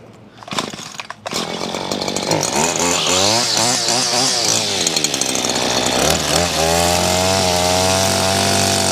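A string trimmer flip-edging a lawn beside a sidewalk on a landscaping job, its engine starting with a few short bursts and then whining steadily at high revs, close and loud, rising and falling as it cuts.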